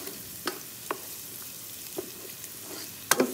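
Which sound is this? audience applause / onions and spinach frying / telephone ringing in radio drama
onions and spinach frying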